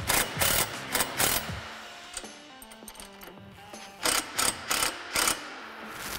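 A hand ratchet snugs down bolts on a Polaris RZR 1000 Gen 2 expedition rack, with close, loud bursts of rapid clicking in two groups and quieter mechanical ticking between them.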